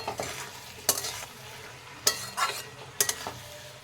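Chili chicken with vinegar is stirred in a hot pan, with three sharp scraping strokes of a spoon standing out against a low continuous sizzle.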